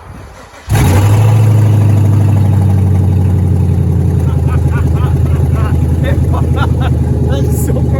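A turbo LS engine fitted in a caravan build cranks briefly and catches, then settles into a loud, steady idle close by with a slightly uneven mechanical rhythm for several seconds.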